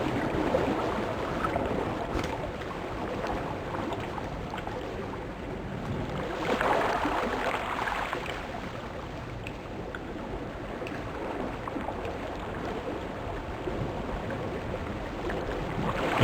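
A boat moving over water in the sailing game eSail, a continuous low wash and rushing water noise with a mild swell midway, steady throughout.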